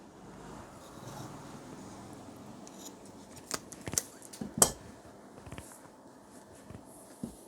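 Tailor's scissors snip through cloth for a uniform neck coat in a quiet room, giving a few sharp, close cuts midway among soft handling rustles.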